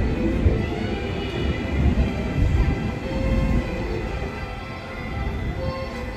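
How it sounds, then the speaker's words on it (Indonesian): A KRL commuter train, a ten-car set, rumbles steadily nearby at Gondangdia station in Jakarta, a heavy low roar of wheels and motors with a slight swell and fade, no voices. "Jalur 1 masuk komuter lain tujuan Jakarta Kota rangkaian 10 kereta."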